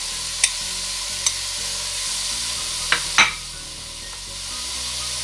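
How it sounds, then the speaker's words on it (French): Diced carrot sizzles steadily in a hot pan, with a few sharp spoon taps and scrapes as it is stirred. The sound is close and moderately loud. "Je rajoute ma carotte coupée en petits morceaux."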